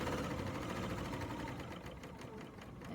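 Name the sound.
serger overlocker sewing quilt binding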